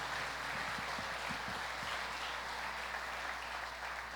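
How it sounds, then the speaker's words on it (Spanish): A church congregation applauds during a worship service in a steady, muffled wash of clapping. It sounds faint and distant, with a low hum underneath. "Vamos a darle un aplauso al Señor."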